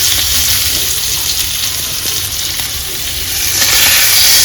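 Nivate fish fry in a hot pan, making a loud, close, continuous sizzle and hiss that holds steady and swells slightly toward the end.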